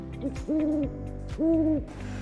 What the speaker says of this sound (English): I wonder if the little owl is at home.